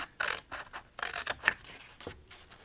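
Scissors snip paper around a decorative border in a crafting session, a handful of short close crisp cuts and scrapes with brief pauses between them.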